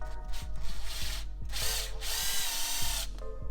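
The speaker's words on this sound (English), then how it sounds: "We have an impact drill with a 3-inch screw we're gonna drill directly into the tire." An impact drill drives a 3-inch screw straight into a car tire, a steady loud motor whine broken by rapid rhythmic hammering clicks from the impact mechanism throughout, with no talking.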